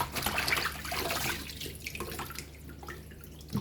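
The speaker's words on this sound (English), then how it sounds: "So we're going to wash that more than 1 time, more than 2 times." Soup ingredients for Jamaican pepper pot soup washed under running water: a close splashing rush of tap water that thins out into lighter trickles and drips, ending with a small knock.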